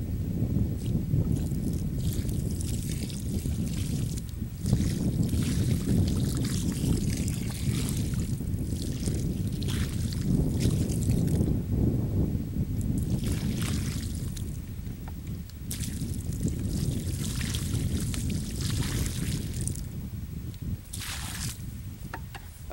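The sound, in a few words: remaining water poured onto newly planted apple tree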